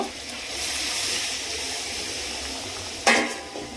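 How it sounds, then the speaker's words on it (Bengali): Spice-mixed water goes into a pot of frying mutton curry, giving a broad sizzling hiss that ends with a sharp splash and burst of steam near the end. "মশলা মাখানো জলটা আগে আমি দেব"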